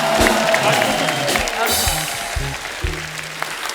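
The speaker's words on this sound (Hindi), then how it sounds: "एक बार हमारे मेहमानों के लिए जोरदार तालियां हो जाएं।" Studio audience applause for guests on a comedy and qawwali television show, clapping and some cheering that gradually fades under a host's talk.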